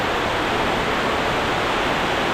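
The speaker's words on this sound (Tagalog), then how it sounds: "Sobrang lakas ng ulan" Heavy rain pours steadily, a dense, loud, unbroken roar of water that fills the whole stretch with no other sounds.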